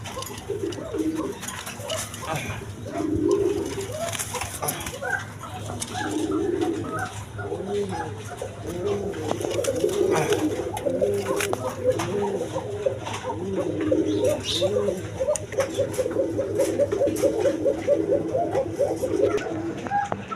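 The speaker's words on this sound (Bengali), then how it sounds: "দশমীদা এখানে এক পেয়ার পোকা কবুতর আছে" Pigeons coo repeatedly in soft, throaty phrases, several birds overlapping close by, with a faint clink of dishes now and then.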